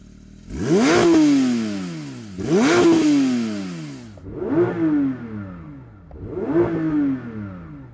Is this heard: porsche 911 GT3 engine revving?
yes